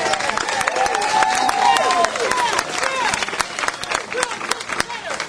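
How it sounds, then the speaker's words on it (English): An audience at a political forum applauds a council member in a mix of sharp claps, scattered cheers and crowd murmur, uneven and lively, with voices heard through it. "Please give him a round of applause."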